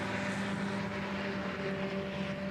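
A paramotor drones steadily at a distance during a world championship slalom final run between pylons, a constant propeller hum with no voices.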